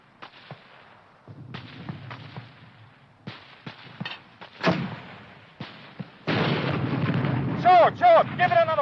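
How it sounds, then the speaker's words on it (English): Mortar and artillery fire in a 1951 WWII war film, with sharp booms and thuds scattered through the clip and a louder rumbling barrage near the end, mixed with battlefield noise and voices. "Hurry up with that mortar."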